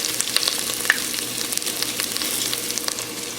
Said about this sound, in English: Now I'll drop in the ginger. I'll get the garlics also in at the same time.